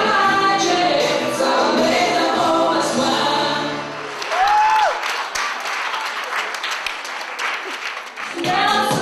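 A studio audience breaks into applause for a performer taking the stage at a television show, starting after a stretch of music and voices, then dense, steady clapping for several seconds.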